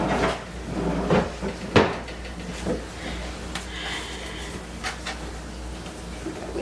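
Kitchen cupboard doors and drawers opened and shut during a search, several knocks and thumps spread unevenly amid faint rummaging and a quiet room hum.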